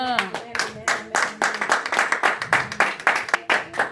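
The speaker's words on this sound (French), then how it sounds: "Acclamons très fort le Seigneur." A church congregation claps rhythmically in a fast, steady beat, with cheering and voices mixed in, loud and close in a reverberant hall.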